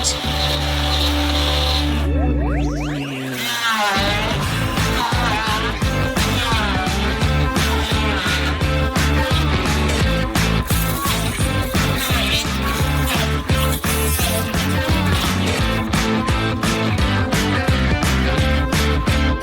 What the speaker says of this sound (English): Using an immersion blender, we grind everything into a smooth state